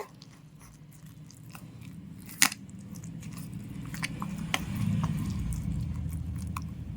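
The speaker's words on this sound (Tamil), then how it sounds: "சேர்த்துட்டு இதை நல்லா மிக்ஸ் பண்ணிவிட்டு" Rava dosa batter with curd and water is stirred in a bowl, giving soft wet squelching and scraping with a few sharper clicks of the spoon, close and fairly quiet throughout.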